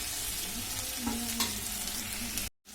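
Okra (bhindi) stir-fries in a pan: a steady, close sizzle with light scraping of the spoon, alone without talk, ending abruptly.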